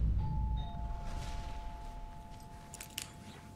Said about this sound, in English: Who rang the doorbell?